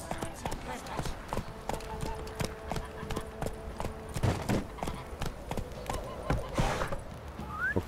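A horse galloping in the Witcher 3 Wild Hunt video game, rapid rhythmic hoof clip-clops close by with an occasional whinny, while someone talks over it.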